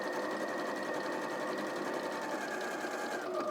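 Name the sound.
sewing machine stitching a quilt block seam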